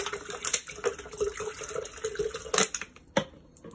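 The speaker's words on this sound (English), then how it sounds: "I'm gonna pour 2 water bottles in here." Bottled water poured into a kettle or pot for morning tea, a continuous splashing stream with a few louder gurgles and bumps, close and fairly quiet.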